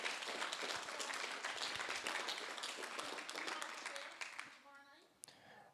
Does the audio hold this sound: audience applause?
yes